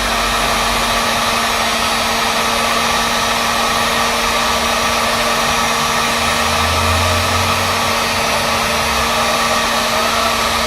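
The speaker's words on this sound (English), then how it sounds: "Turn on your heat gun, and then just hold your pipe over it to soften it up." A heat gun blows steadily for the whole stretch while a plastic pipe is held over it to soften, a loud, even airy roar with a constant motor hum and no talk.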